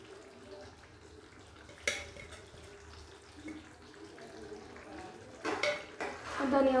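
Spoon stirring chopped coriander into aloo baingan curry in a pan, with soft scraping and a few sharp clinks of metal on the pan, close and moderately quiet.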